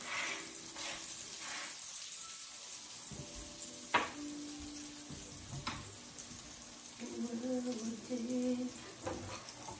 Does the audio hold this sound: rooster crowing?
no